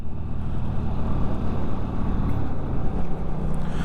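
Benda 300 motorcycle engine accelerating on a ride, a steady low droning growl with buffeting wind noise, holding a fairly constant level throughout.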